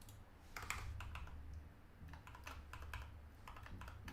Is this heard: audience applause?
no